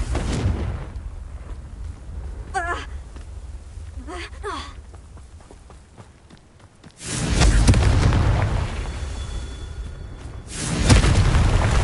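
Confringo fire spell blasts in Hogwarts Legacy, a loud whooshing burst at about seven seconds with a second burst near eleven seconds, following quieter magical chimes and a spoken incantation.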